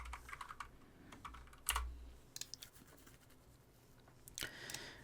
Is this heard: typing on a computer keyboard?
yes